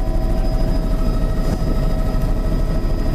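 Float plane passing overhead above a dense eelgrass bed, a steady loud engine and propeller drone holding evenly throughout, with no voices.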